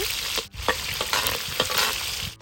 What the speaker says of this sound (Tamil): இந்த சின்ன வெங்காயத்தை நல்லா பொன்னிறமாக பொரிச்சிக்கலாங்க.